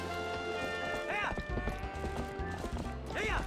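Hoofbeats from a horse ridden while herding goats in the video game Zelda: Twilight Princess, a steady clip-clop running under game music, with a horse whinny rising briefly twice.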